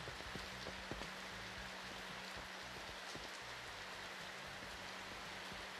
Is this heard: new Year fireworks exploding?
no